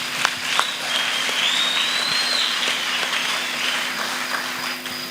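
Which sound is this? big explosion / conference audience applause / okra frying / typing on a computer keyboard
conference audience applause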